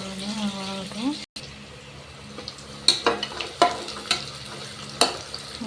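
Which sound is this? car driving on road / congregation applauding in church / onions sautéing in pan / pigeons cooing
onions sautéing in pan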